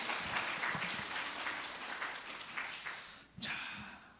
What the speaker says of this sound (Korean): 우리 교회 학교 학생들을 위해서 우리 박수 한번 보내겠습니다